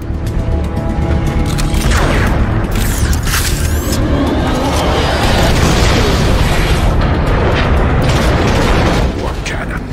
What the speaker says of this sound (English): More cannons.